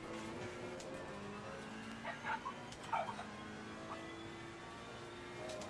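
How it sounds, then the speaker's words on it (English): A dog barking outdoors in the distance, a few faint yips and barks around the middle against a low background hum. "My dog's going mad."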